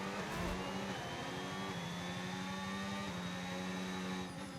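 A Formula 1 car engine in the F1 25 racing game revs up hard as it re-accelerates, a loud, continuous high-pitched whine with steady harmonics climbing in pitch, heard alone without talk for several seconds.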